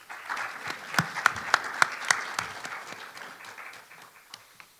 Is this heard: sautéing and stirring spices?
no